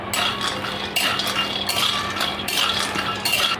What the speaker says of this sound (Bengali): বাদামটা আমি শুকনো খোলায় একটু ভেজে নেব